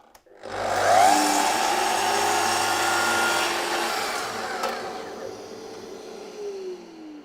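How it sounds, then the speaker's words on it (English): A saw takes a very fine shaving off the edge of a wooden dovetail box, a loud machine whine that spins up, runs steadily for several seconds and slowly winds down. "I'm just going to take a very fine shaving off the edge with my saw."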